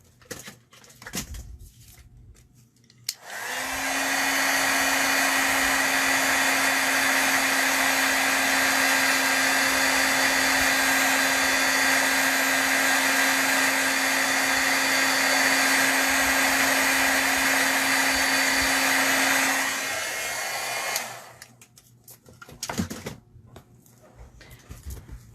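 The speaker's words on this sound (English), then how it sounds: "I think what I'm going to do is hit it with the dryer" A heat-embossing dryer blows steadily on a stamped card for about sixteen seconds, a loud continuous whooshing hum with a clear motor whine, starting abruptly and cutting off with quieter handling noises before and after.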